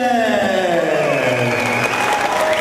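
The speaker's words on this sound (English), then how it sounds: "A big round of applause" Audience clapping at a tourism promotion event honouring a mayor, a loud steady round of applause blended with background music and sustained tones.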